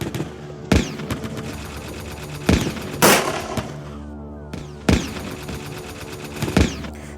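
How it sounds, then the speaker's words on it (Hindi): Gunfire and explosions ring out at night from a fortified house inside a large compound: about five sharp, heavy bangs at irregular intervals over a steady musical bed, with no voices. "एक रात अचानक इस घर से धमाकों और गोलियों की आवाज़ें आती है।"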